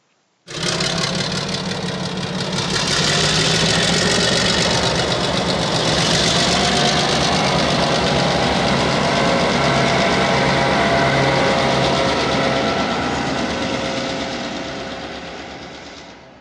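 The recently reactivated Y102 'Fat Boy' locomotive idles at a railway open day, its engine a loud, steady drone with a rapid knocking throb that runs unbroken from start to finish.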